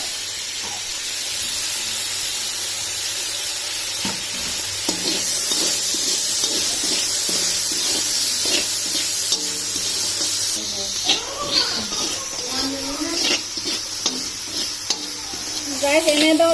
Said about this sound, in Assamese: এনেদৰে আপোনালোকে বস্তুখিনি ভাজি ল'ব